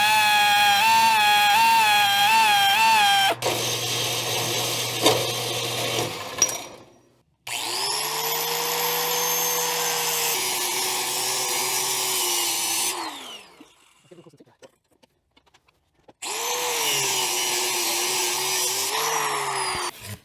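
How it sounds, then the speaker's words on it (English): Belt sander grinding chrome off an Aermacchi motorcycle fork leg: a loud, steady motor whine with a rising pitch as it spins up, running in two long passes separated by a short quiet pause. "I'll grind off the chrome with my belt sander"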